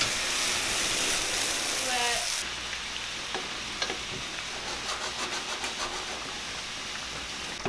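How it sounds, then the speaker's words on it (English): A hot, slightly burnt pan deglazed with white wine after searing scallops, giving a loud burst of hissing sizzle that drops off abruptly partway through, followed by softer bubbling and clinks. "let's deglaze that pan"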